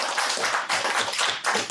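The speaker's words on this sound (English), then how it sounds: "But everyone give Andrew a round of applause." Audience clapping at a real estate investor meetup, a brief dense burst of hands in a small room that swells and dips in a few uneven waves.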